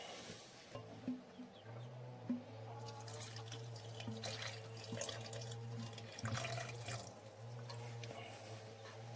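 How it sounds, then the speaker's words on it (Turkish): Aqua regia is poured onto gold scraps salvaged from motherboard back-panel connectors, giving a faint, steady trickle and fizz of liquid under a constant low hum, with a few small clinks. "Şimdi buna kral suyu koyalım."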